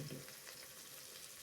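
Mushrooms frying in a pan for mushroom biryani give a steady, soft sizzle that runs evenly throughout, close and fairly quiet, with no talking.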